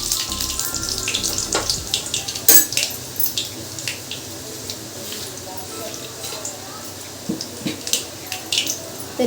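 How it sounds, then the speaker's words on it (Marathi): Hot tadka with curry leaves and garlic crackles in a kadhai, with sharp intermittent pops and hissing sizzle, fairly close, alongside clinks of utensils and someone talking. "तर आपला आता तडका मस्त चरचरीत द्यायचा आहे."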